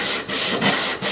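60-grit sandpaper rubs back and forth on wood in quick, close, rough strokes, with about three scratchy passes in one second and brief dips between them.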